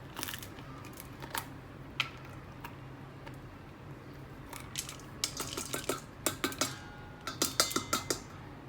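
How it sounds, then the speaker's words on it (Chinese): Stem ends snap off green chili peppers being prepped for tiger-skin peppers: sharp, quiet clicks at an irregular pace, quickening into a rapid run of snaps near the end, with no talking. "我把那个辣椒屁股给它折了。"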